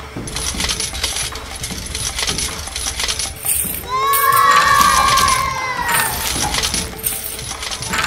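Coins drop and clink in a toy LEGO machine mixed with candies, a dense loud metallic rattling with a ringing jingle in the middle, alongside other busy noise and a high squeal.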